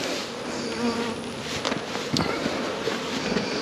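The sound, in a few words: honeybees buzzing around a hive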